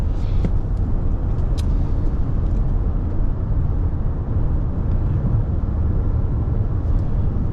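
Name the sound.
Toyota Grand Highlander 2.4 liter turbo hybrid engine driving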